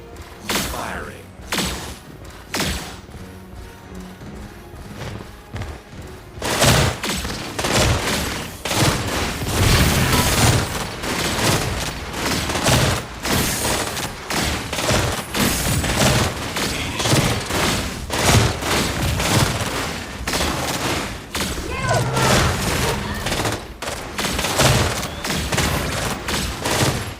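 Gunfire in the game Predecessor: sparse shots at first, then a long dense stretch of rapid, punchy bursts and mechanical clatter, loud and continuous with occasional thuds.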